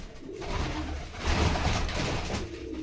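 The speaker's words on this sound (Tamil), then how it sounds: "இங்கே புறா ஒன்று இருக்குது பாருங்க," Pigeons coo steadily at close range in a broad, continuous murmur of soft calls, with no talk over them.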